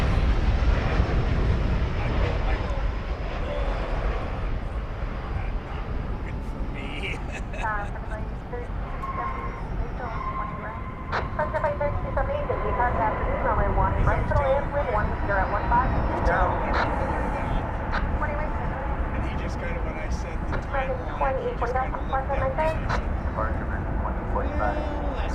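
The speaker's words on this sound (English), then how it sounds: "This plane coming in from Denver, it's a MAX 8, flight 1523." A Boeing 737 MAX 8 arriving from Denver at DFW Airport produces a steady, continuous jet engine roar that holds at a fairly even level throughout, with people talking over it.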